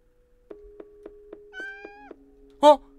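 A cat meows in a Japanese horror video game, giving a run of short, evenly spaced calls followed by a longer rising meow and a louder final cry. A faint voice is heard near the end.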